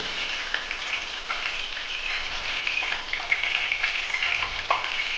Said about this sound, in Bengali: আবার কিছু ভেজে নিই